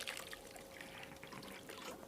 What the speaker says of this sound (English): and then now you put water in the trough